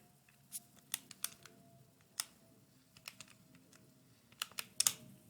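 Calculator buttons are pressed one after another, producing sharp, quiet plastic clicks in an uneven rhythm with a short flurry near the end, close and without speech.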